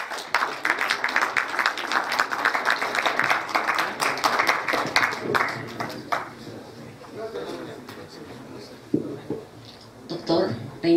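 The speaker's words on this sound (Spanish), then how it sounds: "la recibimos con fuertes aplausos" Loud, dense applause fills a municipal cinema auditorium in Arequipa to welcome a guest at a tribute to Benigno Ballón Farfán, tapering off after about six seconds into scattered claps and room noise.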